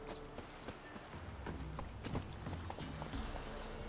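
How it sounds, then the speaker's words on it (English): Horse hooves clip-clop steadily in The Witcher 3, a brisk run of close, fairly loud hoofbeats over ambient game sound with no talking. "Caballo, ¿dónde estás, Sven?"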